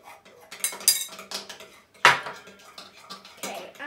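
Slime being mixed in a bowl, with scraping, clinking and squelching bursts in an irregular rhythm, one sharp louder clack near the middle, close and moderately loud, no talking.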